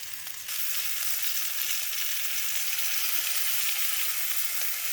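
Marinated paneer tikka sizzles and fries steadily in a hot pan, a loud, even hiss that swells after a brief start and continues without talk.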